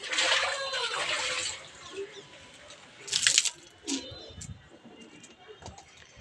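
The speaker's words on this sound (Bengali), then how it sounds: "চলুন অল্প অল্প করে জল দিয়ে দেবো" Water poured onto rose plants outdoors, a splashing gush at the start followed by lighter trickles and splashes, with a voice speaking quietly in between.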